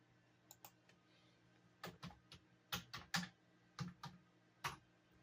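Someone types the word Glock into a search box on a computer keyboard, a quiet close burst of separate key clicks in an uneven rhythm with short pauses between groups.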